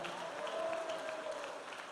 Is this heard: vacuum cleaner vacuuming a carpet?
no